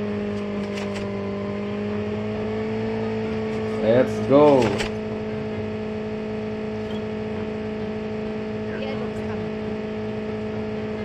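Motorbike engine in the mobile shooter Call of Duty Mobile, a steady droning hum held throughout with a brief revving surge partway, under a short burst of player talk.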